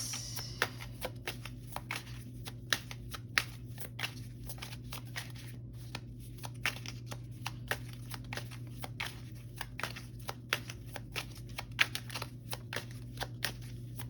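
Tarot cards being shuffled, with a rapid run of soft crisp riffles and flicks over a steady low hum, fairly quiet and close, without talk.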